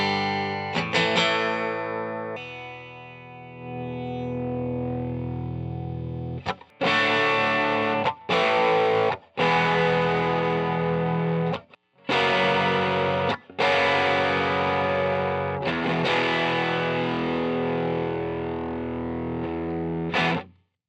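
Electric guitar played through a restored vintage Fender Deluxe Reverb tube amp with a replaced transformer and new 6V6 tubes, giving crunchy, slightly distorted chords and sustained notes in phrases broken by brief silences.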